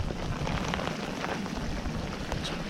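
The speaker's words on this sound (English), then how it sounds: "There's a bit of hail in there, it's bouncing off me." Hail mixed with rain pelts a fishing boat in rising wind, a steady dense hiss of drops with scattered sharper ticks and taps throughout, close and continuous with no voices.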